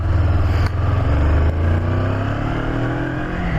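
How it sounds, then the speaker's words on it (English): A 2015 Honda CB500F motorcycle engine hums while riding, a smooth, loud, steady drone with rising pitch as it accelerates through gear changes, marked by brief dips in the sound. "The engine on it, really nice, typical Honda, very smooth."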